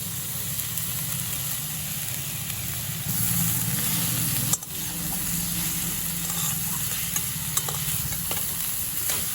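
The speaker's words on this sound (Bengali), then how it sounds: "এই সময় আমার ভেজে রাখা বেগুনের টুকরোগুলোও দিয়ে দেবো।" Potatoes, methi greens and pre-fried eggplant pieces are stirred together in a pan, giving a steady close sizzle with continuous scraping and one sharp knock midway.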